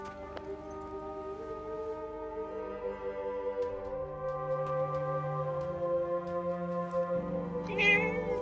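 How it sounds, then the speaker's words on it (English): Cat meowing in the Forspoken video game, a short meow heard over a soft sustained music bed, with no talking. "Hey, that cat."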